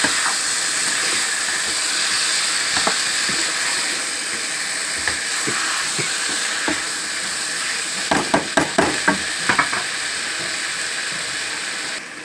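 Banda kodi (country chicken) meat sizzles hard in a hot pan, a loud steady hiss with scattered pops and spatters, heaviest near the end.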